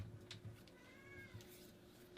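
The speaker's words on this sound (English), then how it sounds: "Did I hear a cat?" A single faint cat meow rises and falls once near the middle, quiet and somewhat distant over a low steady indoor hum, with no talking.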